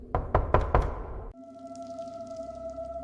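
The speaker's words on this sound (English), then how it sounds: "Would you knock 3 times?" Four sharp, loud knocks land in quick succession on a school toilet door, then give way to an eerie sustained tone and a low droning ambience.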